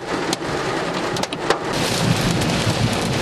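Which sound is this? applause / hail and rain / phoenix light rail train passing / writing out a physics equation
hail and rain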